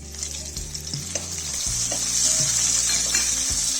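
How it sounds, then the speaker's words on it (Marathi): Chopped onion sautéing in hot oil with bay leaf, cloves and black pepper, a close, steady sizzle that swells slightly as it continues, with a low background hum and occasional stirring clicks. "चांगला परतून घेऊ."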